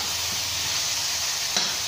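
Food, likely chicken wings, sizzles steadily in a hot pan as it is stirred, a constant close hiss with one brief scrape of the utensil.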